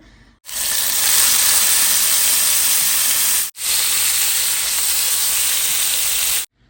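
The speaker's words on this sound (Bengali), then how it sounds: "এখানে অলরেডি তেলও দিয়েছি তেল গরম হয়ে গেছে" Rohu fish fries in hot oil with a loud, dense, steady sizzle and hiss up close, cut off sharply twice and resuming at the same level, with no voices over it.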